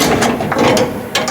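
A ratchet wrench clicks rapidly and close up as a bolt is run in on a 2014 Camaro dash being fitted into a 1970 El Camino, a short burst of metallic pawl ticks with no talking.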